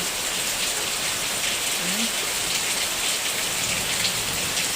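Heavy rain pours down in a dense, unbroken roar that stays loud and even throughout, with no voices over it.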